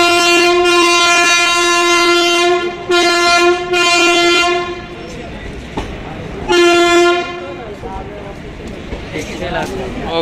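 A passenger train at an Indian railway platform, the Dhanbad–Alappuzha Express, sounds its horn in several loud, sustained tonal blasts, with station bustle and people talking around it.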